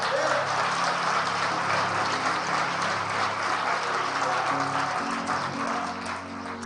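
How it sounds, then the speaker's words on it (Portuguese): A church congregation at a celebration service applauds, a steady, even patter of many hands sustained throughout, with a voice faintly underneath. "Aplauda o Senhor, meu irmão."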